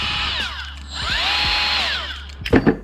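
A high-pitched cordless Milwaukee M right angle die grinder whines steadily, its pitch sweeping up and down as speed changes, ending with a couple of short bursts.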